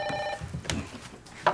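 A telephone rings in a home during a family drama scene, a short electronic ringing burst followed by a quieter second chirp.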